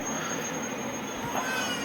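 A passenger express train pulls into Nadikudi junction with a steady rumble of rolling wheels and a thin high squeal from the rails, heard from on board and continuous throughout.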